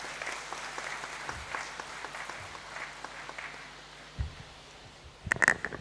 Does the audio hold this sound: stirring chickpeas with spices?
no